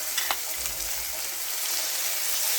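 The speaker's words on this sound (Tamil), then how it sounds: "நான் வந்து இஞ்சி பூண்டு பேஸ்ட் போட்டுக்கிறேன்" Ginger garlic paste fries in a pan over cooked tomatoes, a loud, continuous close sizzle with a couple of brief stirring scrapes near the start and no voices.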